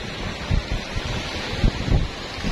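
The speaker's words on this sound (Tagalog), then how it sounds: "Ang sarap ng tunog ng alon." Ocean waves wash against a rocky shore in soft, irregular surges, with steady wind noise rumbling across the microphone throughout and no voices.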